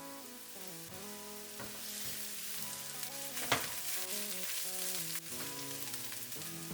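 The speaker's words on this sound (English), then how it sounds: "Have those spices toast just for a couple seconds." Spices toasting in a hot pan for braised pork spare ribs, a steady close sizzle with faint scraping and one brief sharper crackle near the middle, over soft background music.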